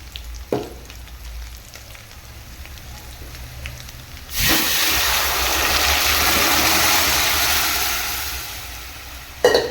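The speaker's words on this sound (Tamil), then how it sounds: "இப்போ நம்ம தாளிச்சிக்கலாம்" Spices for a dhal and drumstick sambar tempering in hot oil, bursting into a loud, steady sizzle about midway that holds for several seconds before easing slightly, after a quieter stretch with a few faint clinks.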